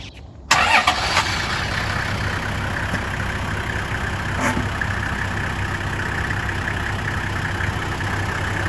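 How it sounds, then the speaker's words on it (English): A Toyota Land Cruiser pickup engine idles close by, a low rumbling drone with a constant hum that holds evenly after a sudden start. "make sure keep the engine running because this is burning a lot of batteries"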